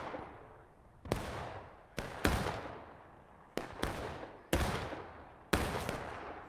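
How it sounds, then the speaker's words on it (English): Cannon fire in a Civil War battle video game, with sharp booming blasts going off in an irregular volley, about seven shots over several seconds, each trailing off into a rumbling decay, with no talking. "Duckberry of the 5th North Carolina lining up another cannon shot on this counter"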